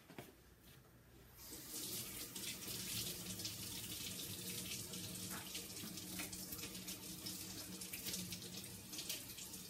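Chalk stencil rinsed under a running tap at a sink, water streaming steadily and fairly close for most of the stretch after a quiet start, with no talking.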